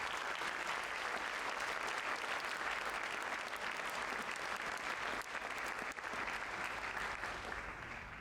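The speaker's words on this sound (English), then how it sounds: "So I would ask you please to give them a round of applause." Sustained applause from a school audience at a senior recognition night, steady clapping filling the room for the full stretch without letup.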